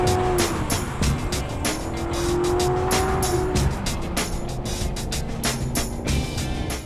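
Crown Victoria Police Interceptor with the 4.6 liter V8, police suspension, brakes and rear axle, launching hard on a track: a loud engine roar climbing through the gears with sustained screeching tire squeal close by, no talk.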